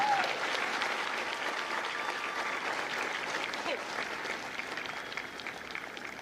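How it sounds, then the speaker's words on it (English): Applause from a crowd at a Marine Corps recruit graduation ceremony in San Diego, honoring company staff; steady, fairly soft clapping from many hands, distant and even, slowly thinning toward the end. "Please join me in a round of applause for the company staff of India Company"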